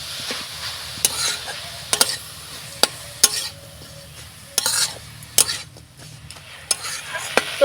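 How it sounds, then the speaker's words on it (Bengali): A spatula stirs a coconut and jaggery filling for palm-fruit pitha in a wok, scraping steadily over a soft sizzle and knocking sharply against the pan every second or so. "এবার নাড়াচাড়া করে আমি পুরটা তৈরি করে নেব"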